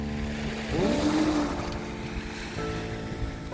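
Waves surge and wash over a pebble beach at Jeongdori Gugyedeung, Wando, South Korea, in a steady roar, with wind rushing across the microphone and a brief tonal whine partway through.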